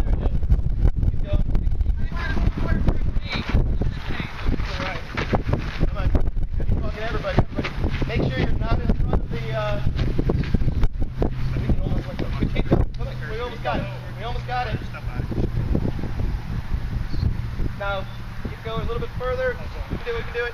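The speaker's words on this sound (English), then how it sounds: "wind's going to be a little tricky" Gusting wind buffets the microphone outdoors at a high-altitude balloon launch, a steady low rumble throughout, with several people talking and goose-like honks from birds nearby.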